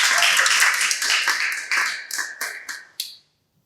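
A small audience at an Indonesian podcast recording gives brief applause that thins into a few scattered claps before stopping.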